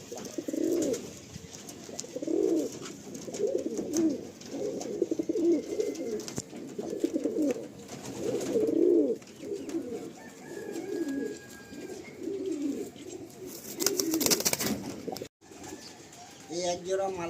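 Tournament-quality pigeons coo in a steady series of low, throaty rolling calls, close and continuous, with faint background noise and a brief burst of louder hiss near the end.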